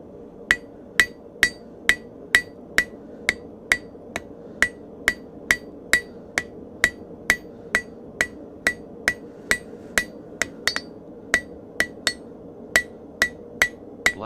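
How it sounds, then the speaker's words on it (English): A blacksmith's hammer planishing hot metal at the forge: sharp, ringing metallic strikes at a steady, even rhythm, roughly two per second, loud and close, with a low background hum and no talk. "we'll stay with this hammer"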